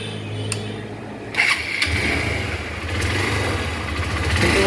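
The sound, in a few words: Hero Impulse 150 motorcycle engine starting after rebuild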